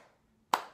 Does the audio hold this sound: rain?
no